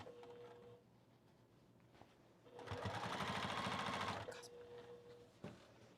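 A sewing machine stitching overalls whirs in a single burst of about two seconds, loud and close, set between quieter stretches of room sound and faint clicks.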